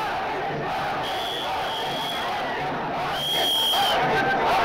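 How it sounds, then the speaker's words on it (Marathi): A huge crowd of Maratha protesters packs the local-train platforms at CSMT station. It makes a dense, continuous roar of shouting and chanting with occasional sharp whistles, swelling louder toward the end. "प्रचंड गर्दी मराठा आंदोलकांची इथे स्टेशनवर जमलेली।"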